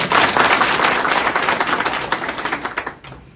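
An audience applauding at a live roll-on inhaler product demonstration, a dense burst of loud, close clapping that thins into scattered claps and fades out near the end.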